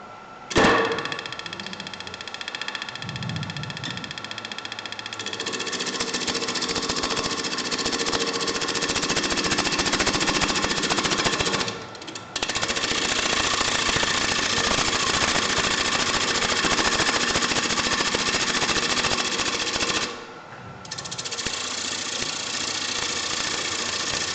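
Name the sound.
woodturning with a gouge as the speed increases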